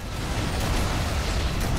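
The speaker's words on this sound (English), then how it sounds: "that's a lot of explosions" Dense, continuous rumbling explosions and grenade bursts in Halo: Combat Evolved blend into one loud, chaotic roar with no pauses.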